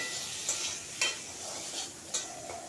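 Vegetables with turmeric, including drumsticks, potato, bitter gourd, ivy gourd and carrot, fry in a pan with a steady close sizzle and a few sharp scraping stirs, no speech.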